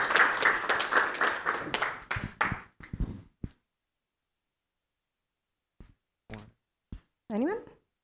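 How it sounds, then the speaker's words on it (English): A small group claps, loud and dense at first, then thinning into scattered, slower hand claps that fade out, followed by a few brief voice sounds. "Oh yeah, clap."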